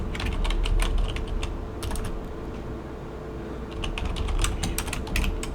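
Rapid bursts of keystrokes on a computer keyboard come in uneven clusters over a low, steady room hum, with no voices.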